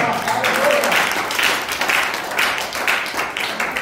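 A church congregation applauds during a worship service, a dense, steady wash of clapping with voices mixed in, fairly loud and continuous throughout.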